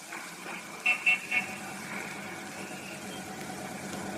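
City bus and street traffic in an old-time radio drama: a low, steady engine rumble with three short horn honks in quick succession near the start, then continuing idle hum.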